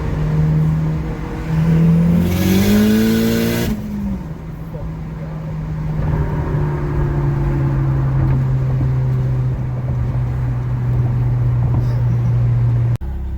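A turbocharged 9th-generation Honda Civic pulls hard, its engine tone climbing and stepping through a gear change before settling into a loud, steady drone close by.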